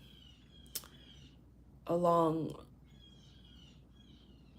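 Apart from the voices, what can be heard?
birds chirping outside a window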